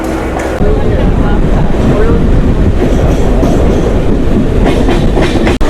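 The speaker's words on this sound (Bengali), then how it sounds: "3 মিনিট লেটে ট্রেনটা দমদম স্টেশনে ঢুকলো" A local train pulls into Dum Dum station, a loud continuous rumble with rhythmic clattering of wheels on rails that stays close and heavy throughout.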